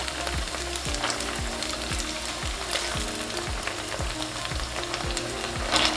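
Leftover boiled dumplings with tinned mackerel fry in a pan, a continuous close sizzle and crackle running underneath a quiet, steady rhythmic ticking from the stove.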